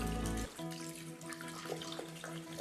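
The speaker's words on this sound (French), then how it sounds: "je vais rajouter aussi de l'eau, donc il y a 500 g d'eau froide" Cold water running into a Thermomix bowl, a steady bright rush that starts abruptly and continues evenly for a couple of seconds, close by and without speech.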